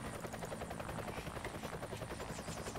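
Helicopter flying in the video game Call to Arms, a steady rotor thump and turbine drone that continues without break, with no talk.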